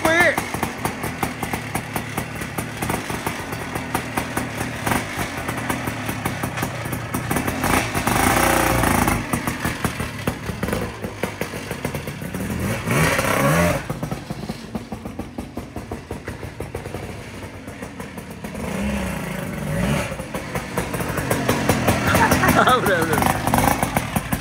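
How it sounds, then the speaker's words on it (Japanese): A kick-started Sidewinder engine runs steadily, a sustained mid-pitched idle with occasional revs, heard close under frequent talking voices. "普通サイドワインダーってエンジンかけるの難しいんですよ"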